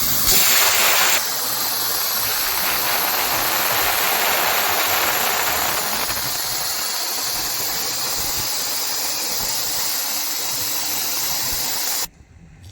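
A plasma CNC cutting machine with a built-in air compressor, a Gbkore Cut-120 air plasma unit, roars with a loud, continuous hissing blast of cutting air that holds steady for about eleven seconds before cutting off abruptly.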